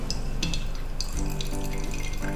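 Leftover sea water is poured away after being filtered through a funnel, a continuous close splashing and gurgling stream with no voices heard over it.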